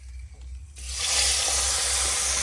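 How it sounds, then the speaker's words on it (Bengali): Fish dropped into hot oil in a pan bursts into a loud, steady sizzle that holds without a break. "এবার মাছগুলো ভেজে নেবো।"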